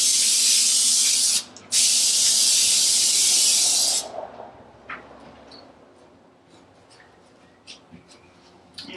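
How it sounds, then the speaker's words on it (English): Spray bursts onto a yoga mat on a Klimb, with a loud, close hiss that stops briefly near the start and then resumes for a few seconds. Faint handling noises and soft clicks follow. "I'm going to spray a little bit on this side as well."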